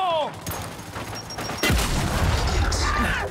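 A grenade blows up in the shooter Gears 5 with a heavy boom that bursts in partway through, amid rapid gunfire and game effects, with voices shouting in the action.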